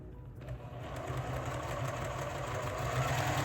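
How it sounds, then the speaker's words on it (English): A sewing machine stitches a wedge for a quilt block, running with a fast, even whirring that starts after a brief pause and holds steady and close, with no voices. "let me start sewing this block by sewing a wedge"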